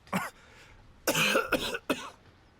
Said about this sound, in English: you coughing pretty nasty like, bro